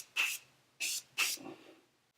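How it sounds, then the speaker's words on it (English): Three short hissing bursts of Morphe makeup setting spray, close and fairly loud, with a brief pause between the first and second and the last two coming quickly together. "So for my setting spray, like I did before, my Morphe setting spray."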